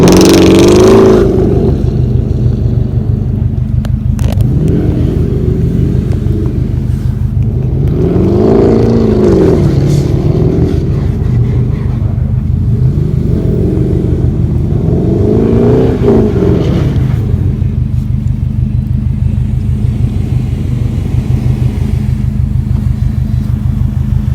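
Jeep SRT8 engine revving repeatedly in loud, steady rumbling swells, rising and falling about three times over a constant low drone.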